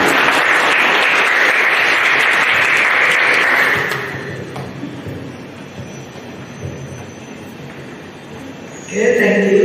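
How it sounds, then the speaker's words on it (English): An audience applauds at a university biology department guest lecture, a loud dense burst of clapping for about four seconds that thins into quieter room noise, with a voice starting near the end. "let's give a warm applause to Retno"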